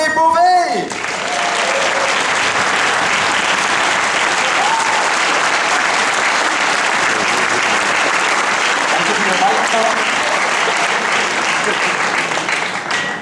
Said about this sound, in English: Ladies and gentlemen, a big round of applause for José Bové!